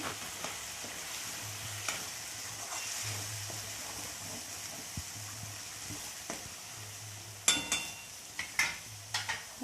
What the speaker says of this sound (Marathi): एक अर्धा चिमचा आपल्याला हळद टाकायची ह्याच्यामध्ये व्यवस्थित छान परतून घ्यायचं आहे